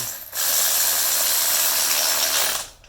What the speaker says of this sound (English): you can use the electric ratchet since you already know you got the threads